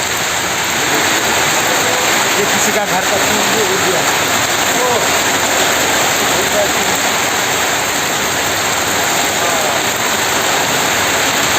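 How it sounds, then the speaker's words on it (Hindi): Heavy rain pours steadily in Diphu, a dense, loud, unbroken roar of water under a voice speaking briefly. "बहुत ही जोर से बारिश हो रहा है अभी भी"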